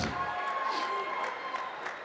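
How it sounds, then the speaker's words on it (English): A crowd claps and cheers after a bantamweight fight ends in a TKO, steady moderate applause with scattered shouts, a ring announcer's voice running over it. "a big round of applause for his opponent, Benji Gomez"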